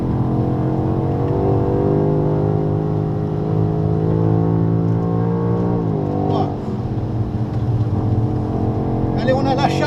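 A BMW X6M on the Dijon race circuit holds a loud, steady engine drone under acceleration, then the pitch drops abruptly as it brakes hard near the end, heard from inside the car.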